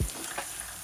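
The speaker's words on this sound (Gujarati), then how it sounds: "ત્યારબાદ ક્રશ કરેલી ડુંગળી નાખીશું. સારી રીતે તેલમાં સાંતળી લઈશું." Crushed onion sautéing in hot oil for a pav bhaji base gives a low, steady sizzle that is short and fairly quiet, with no voices over it.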